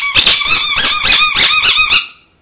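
A squeaky pet toy ball lets out a quick run of about eight loud, close, high-pitched squeaks in a bouncing rhythm, then cuts off into silence.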